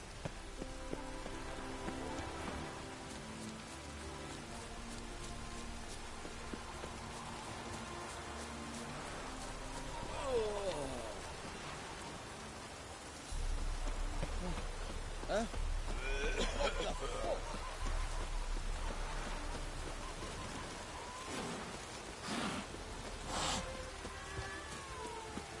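Steady rain falls in a video game scene, a constant broad hiss of drops striking surfaces that carries on throughout, with a brief louder swell partway through.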